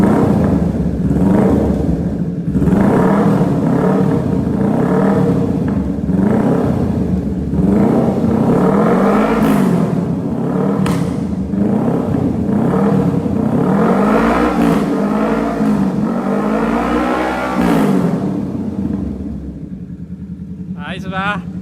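A Kawasaki Z650 motorcycle is revved at standstill, its exhaust rising and falling in repeated loud throttle blips close by, with people talking over the engine throughout.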